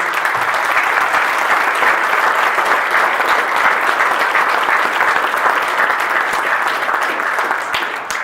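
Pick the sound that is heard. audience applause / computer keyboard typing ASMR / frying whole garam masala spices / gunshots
audience applause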